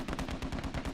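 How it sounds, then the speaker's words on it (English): Rapid video-game gunfire in a large-scale online battle, a fast regular burst of shots hitting the player, loud and continuous for about a second with no talk. "Still getting shot by Ganondorf."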